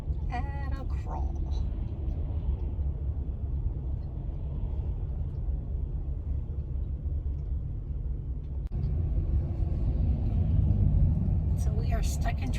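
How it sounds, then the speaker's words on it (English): Steady low road rumble from inside a car crawling through slow traffic just outside Nashville, Tennessee, continuous throughout with a slight swell in the second half. "So we are stuck in traffic right outside of Nashville somewhere."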